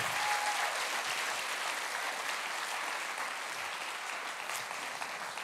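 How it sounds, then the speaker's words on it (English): A church congregation at a carol service applauds the band and choir, giving sustained, dense clapping that fills the hall at a loud, constant level from start to finish. "Should we give a massive round of applause to the band, the choir, all those that have given readings?"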